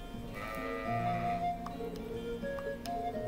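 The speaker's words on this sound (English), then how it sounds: "Here's your sheep." A few bleating sheep calls, moderately loud, over a layered soundtrack from the game Trails of Cold Steel with steady tones and occasional ticking clicks.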